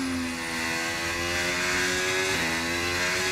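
Racing car engine in the F1 25 video game, revving loudly and steadily with a sustained tonal whine that dips at one upshift before climbing again, alone without talk.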